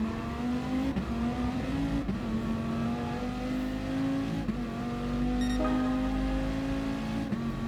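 Dodge Viper Gr.3 race car in Gran Turismo racing at Spa Francorchamps, its engine droning steadily throughout with gear shifts marked by brief dips and rising revs, loud and close with no talk.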